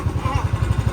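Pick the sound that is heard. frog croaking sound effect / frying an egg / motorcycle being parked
motorcycle being parked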